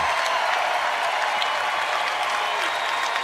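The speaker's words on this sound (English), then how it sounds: "Standing ovation here at FedEx Forum." A basketball crowd at FedEx Forum in Memphis gives a standing ovation, dense sustained applause mixed with cheering that fills a large arena at a steady loud level.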